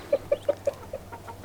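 Garden chickens cluck in a short run of about seven soft, evenly spaced notes, fairly faint and close, with a low steady hum beneath.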